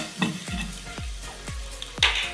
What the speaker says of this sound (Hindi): सूखा धनिया और अजवाइन, ये हम इसको इस तरह रोस्ट कर लेंगे